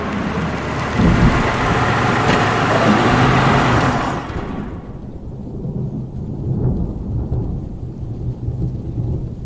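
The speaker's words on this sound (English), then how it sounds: "The rain was steady when I arrived." Steady heavy rain with a rolling thunder rumble that fades after a few seconds, leaving softer continuous rainfall, close and with no voices.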